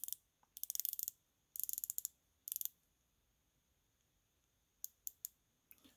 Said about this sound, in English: 120 click bezel. Let's test that out.